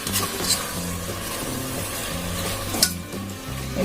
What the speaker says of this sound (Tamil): மிளகா, வெங்காயம், தக்காளி, எல்லாத்தையும் போட்டு மிக்ஸ் பண்ணணும்.